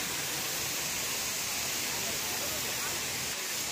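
Bamni Falls, a waterfall in Purulia, gives off a steady, dense rushing hiss of falling water that fills the whole stretch at an even level without pause.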